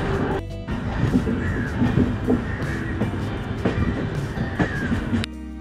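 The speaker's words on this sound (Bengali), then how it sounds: "ঘন্টায় প্রায় 120 কিলোমিটার গতিবেগে ট্রেন ছুটে চলেছে কোলাঘাটের দিকে।" Howrah–Bhubaneswar Jan Shatabdi Express running at speed, a continuous loud rumble with rhythmic rail clatter and occasional sharp clanks, heard from inside the moving train.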